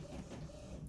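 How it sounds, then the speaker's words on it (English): A printer runs steadily in the background of a craft room, a faint low mechanical hum and whir with no talking. "So if you hear noise in the background, that's my printer going."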